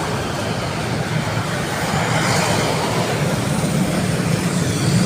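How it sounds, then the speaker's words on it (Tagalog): Heavy road traffic near the Marikina River in Rizal, a continuous dense rumble of cars and buses crawling close by, steady and fairly loud throughout. "Sos, grabe traffic."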